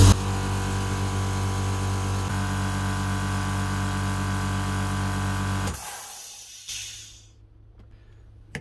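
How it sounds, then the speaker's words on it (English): An air compressor runs to pressurize a Milwaukee M18 crown stapler nail gun, a loud steady motor drone with a constant hum for several seconds, then cutting off abruptly into near silence with a faint hiss and a final click. "Now, run the compressor."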